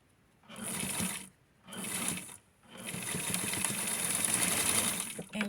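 Sewing machine stitching a vintage Barbie-style doll bathing suit, running in three bursts: two short runs of about a second each, then a longer steady stretch, close and fairly loud with a high whine over a rattling mechanical chatter.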